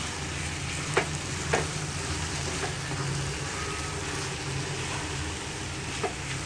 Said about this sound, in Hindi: अभी इसको भी हमको साथ में भून देना है